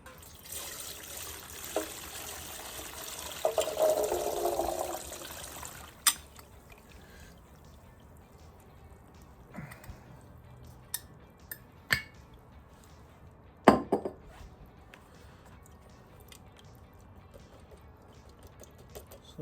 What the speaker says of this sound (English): I'm going to transfer the liquid and the sloes into the colander for starters